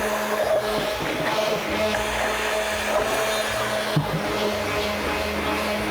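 An electric mixer blends castor, shea and coconut oils with powders for patchouli mud soap, a loud, continuous motor whir with slight shifts in pitch as it works through the batch.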